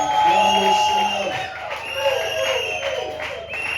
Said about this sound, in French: Est-ce que tout le monde peut acclamer le Seigneur?